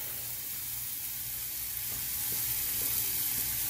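Fish fillets sizzle quietly in a pan after catch-and-cook preparation, a soft, even frying hiss with faint crackles and a low background hum, no talking.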